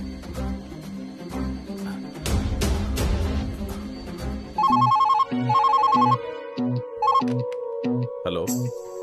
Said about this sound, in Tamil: இந்த நம்பருக்கு ஒரு ஃபோன் போட்டு கொடுமா